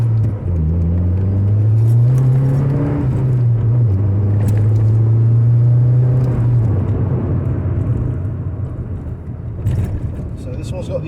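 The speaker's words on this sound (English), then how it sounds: "as you're driving them spiritedly, they do have a bit of engine noise intrusion" A Saab 900 Aero T16S engine drones steadily inside the cabin during spirited driving, its low hum rising and easing with engine speed as someone talks over it throughout.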